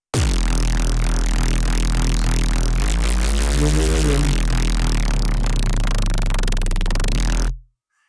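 A sampled bass with chorus, cut lows, boosted highs and a limiter drones loud and dense, its looped texture sweeping and wobbling in the middle before cutting off sharply at the end.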